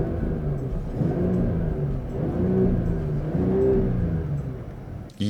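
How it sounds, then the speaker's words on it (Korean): A Mercedes-AMG GT 43 4-Door sits running after start-up, its engine and exhaust giving a deep, close rumble that swells gently a couple of times, then cuts off abruptly at the end. "이 배기음을 잘 기억하셔야 됩니다."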